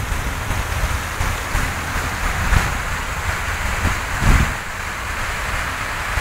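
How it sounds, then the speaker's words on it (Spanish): Waves and wind at Chorrillos beach make a constant roar of surf and buffeting wind noise on the microphone, with a couple of louder gusts or wave crashes standing out. "Playa, Chorrillos."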